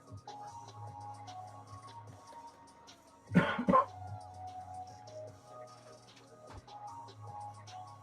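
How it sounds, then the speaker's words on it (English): A person coughs in a short, loud burst of two or three hacks partway through, standing out above a steady indoor background with faint talk and a TV-like murmur. "I'm gonna cough."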